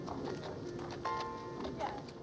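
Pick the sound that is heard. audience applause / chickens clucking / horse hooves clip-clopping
horse hooves clip-clopping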